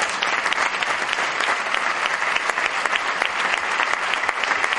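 Sustained, dense applause from a concert audience at a band's 25th anniversary performance fills the space loudly and evenly, with no voices over it.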